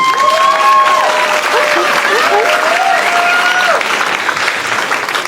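An audience claps loudly and continuously at a live talk, a thick wash of applause with a few voices calling out over it.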